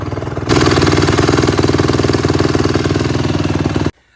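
A 2009 Honda CRF150 dirt bike engine fires up after a short pause and runs with a loud, fast, even putter close by, then cuts off abruptly.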